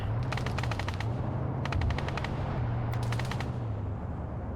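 Automatic gunfire in the Arma 3 video game during a combat operation, bursts of rapid shots in three clusters over a steady low rumble of engine or ambient noise, loud and continuous.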